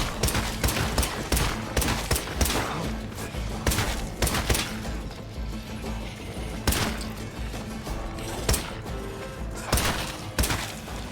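Gunfire from shooting a large group of zombies in State of Decay 2, a rapid series of sharp game gunshots and impacts in uneven clusters, fairly loud and with no speech over it.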